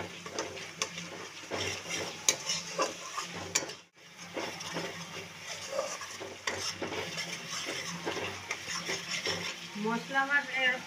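Ground spice masala of coriander, cumin, turmeric and Kashmiri chilli powder being stirred in oil in a pan, soft sizzling with scraping stirs and light clinks, briefly pausing midway.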